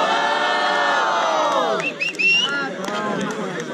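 Battle rap crowd at a freestyle rap battle roars and shouts in a loud, dense wave of cheering and whooping, with rising yells and a few sharp whistles, voices mixed throughout.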